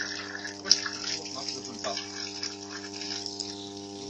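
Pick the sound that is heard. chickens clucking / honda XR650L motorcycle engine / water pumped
water pumped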